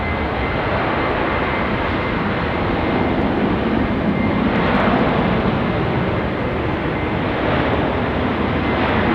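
Airliner on its takeoff roll down runway 16 right at Sydney Airport, a loud, steady engine roar with broadband rumble that holds close and constant throughout, swelling slightly midway.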